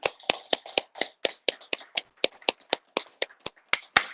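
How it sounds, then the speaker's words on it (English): A single person claps hands alone, about eighteen sharp, evenly spaced claps over four seconds, close and fairly loud, delivered as applause during a remote state board of education meeting. "So I'm going to give you a round of applause"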